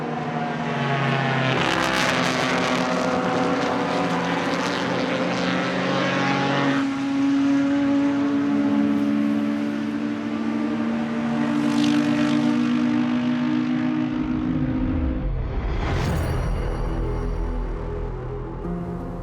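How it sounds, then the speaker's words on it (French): Historic race cars including an Alfa Romeo 1750 GT-AM, Ford Escort and BMW 2002 roar around the Monza circuit, engines droning loudly and shifting pitch as they pass close, one car sweeping by with a Doppler drop near the end. "des voitures un peu moins puissantes qui animent le plateau telles que cette Alfa Romeo 1750 GT-AM ou encore les Ford Escort et autres BMW 2002"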